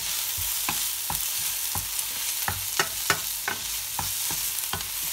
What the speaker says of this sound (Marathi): कांदा आपण चांगला फ्राय करून घेऊया।